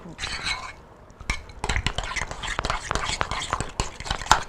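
A spoon scrapes and clinks against a bowl while ingredients are stirred and mixed, irregular sharp taps and knocks over a soft scraping bed, with quiet speech early on.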